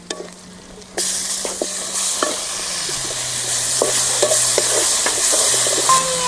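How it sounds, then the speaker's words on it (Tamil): Tomatoes and onions sautéing in a pan for spinach kootu: after a quiet second, a loud steady sizzle starts, broken by frequent sharp taps and scrapes of a ladle stirring close by, no speech. "தக்காளி பழம் போட்டு நல்லா வணங்க வேணும்"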